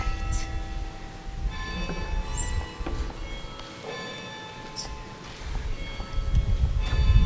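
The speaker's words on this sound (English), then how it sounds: "Wait till the bell rings." A bell rings before a council meeting, its sustained ringing tones carrying over a constant low room rumble for several seconds, with no talk.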